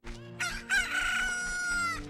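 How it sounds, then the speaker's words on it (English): Blue chicken Kojiro from Zelda: Ocarina of Time crows and clucks in one loud, drawn-out cock-a-doodle-doo, a game sound effect over low background music. "Kojiro is a blue chicken."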